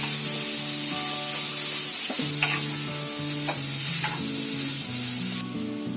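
Turmeric-spiced potato bhaji gets stirred in a sizzling pan, a spoon scraping and clinking through the frying food in irregular strokes, close and steady, with background music playing along.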